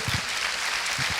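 Church congregation applauding God during a sermon, a brief burst of loud, dense clapping with a few heavier thumps at the start and end.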